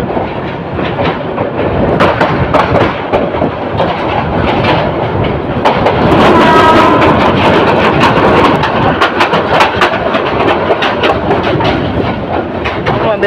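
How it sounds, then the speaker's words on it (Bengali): Train bound for Dhaka from Sylhet passing close by, with rapid rhythmic clickety-clack of wheels over rail joints and a loud continuous rumble that swells mid-pass, with no voice heard. "ট্রেনটি ক্রস করে গেছে, যেটি সিলেট থেকে ছেড়ে আসছে ঢাকা অভিমুখী।"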